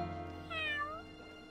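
A cartoon kitten in a Horrid Henry courtroom scene lets out a single short meow that rises and falls, heard clearly over a low, steady background hum.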